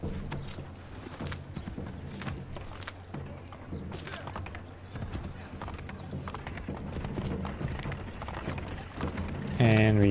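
A horse gallops through the streets of Boston in the video game Assassin's Creed III, with a quick clip-clop of hooves under game ambience and a player's voice talking, and a brief sharp tonal sound near the end.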